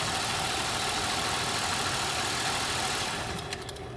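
A 2007 Buick Lucerne engine runs at idle with a steady, dense hum and mechanical whir, close and constant, easing slightly toward the end with a few faint ticks.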